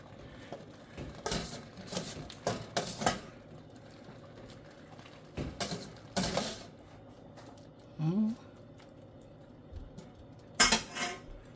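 A metal ladle scrapes and clinks in a cooking pot while saluyot leaves and salmon are mixed, giving several irregular bursts of knocking with quiet gaps between them.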